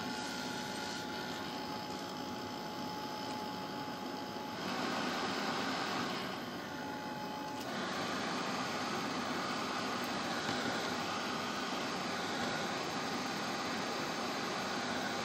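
A hair dryer that makes strange noises, a constant loud whooshing blow with a shift in tone partway through, running alone without talk.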